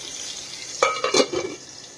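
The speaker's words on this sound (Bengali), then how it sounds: "আর এখানে আমি আলুটা ওই জন্য ভাজতে দিয়ে দিয়েছি।" Potatoes frying in a pan of oil, a steady hiss with a few louder bursts of stirring or spatula scraping in the middle, close by with no talk.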